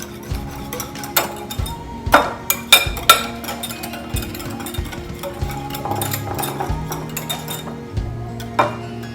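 Crème brûlée cream being mixed in a bowl, a run of irregular sharp clinks and taps of utensil against the bowl, close and clear, with gentle mixing texture between the hits.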